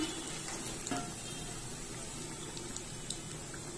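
Food frying in a clay pot, a soft, steady sizzle and crackle close by, with faint stirring ticks scattered through it.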